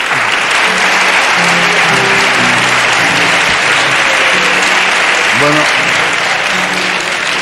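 Studio audience applauding on a Spanish television talk show, steady loud clapping throughout with a voice speaking over it.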